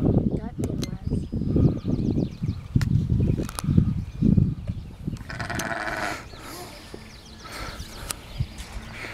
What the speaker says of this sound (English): Look at a baby goat right there.